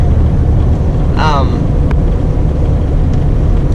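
Chevy K1500 Silverado truck on 20x12 wheels cruising at about 70 mph on the highway, a loud steady low road and engine drone heard from inside the cab, with a brief chirp and a click over it.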